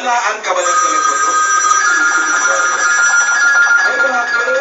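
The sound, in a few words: telephone ringing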